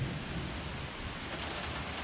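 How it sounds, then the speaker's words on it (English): Steady rain hisses in a broad wash during a storm while rear brakes are being replaced on a 2009 Jeep Grand Cherokee, with low rumbling beneath that hints at distant thunder, continuous and fairly loud with no voices. "Then a storm rolled in, so I have to wait that out."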